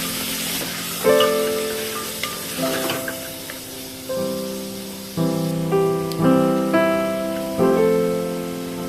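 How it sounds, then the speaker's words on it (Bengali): Four mutton shanks frying in hot oil as they are stirred to brown, a soft sizzle beneath a series of sharp ringing tones that recur throughout, close and without talk. "চারটে মটন টেংরি গরম তেলের মধ্যে দিয়ে দিতে হবে তারপর ভালো করে নেড়ে চেড়ে একটু কষিয়ে নিতে হবে"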